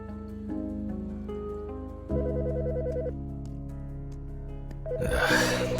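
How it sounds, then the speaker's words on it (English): A telephone rings in the horror game Autopsy Simulator, a repeating electronic tone pattern that carries on steadily and then swells under a burst of noise at the end. "The fucking phone."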